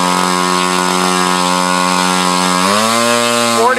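An O.S. GT33 gasoline engine on a thrust test holds a steady, buzzing drone at 20% throttle, then its pitch climbs sharply near the end.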